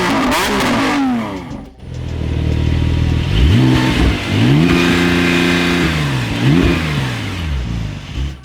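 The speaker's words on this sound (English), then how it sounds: "It's time to hear how these supercars sound." Supercar engines, a Ferrari SF90 Stradale, a Lamborghini Aventador SVJ V12 and a Porsche 911 Turbo S (992), rev hard in loud, close bursts, the pitch sweeping up and falling back again several times, with a brief dip between revs.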